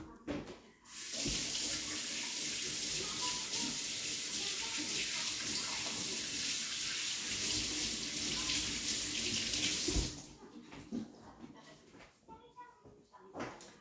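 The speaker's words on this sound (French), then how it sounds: "je vais me laver les mains" Water from a kitchen tap runs steadily for about nine seconds as hands are washed in the sink, then cuts off, leaving quieter handling noises.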